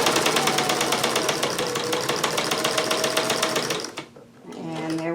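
A small sewing machine runs steadily, stitching jelly roll quilt top pieces with a fast, even mechanical chatter that stops near the end before a voice begins speaking.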